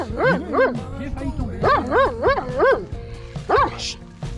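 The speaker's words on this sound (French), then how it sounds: "Calme Watt, le chien blanc." A white dog barks in short bursts, several loud close yelps in two clusters, with whimpering tones between them on a mountain ridge walk in the Drôme.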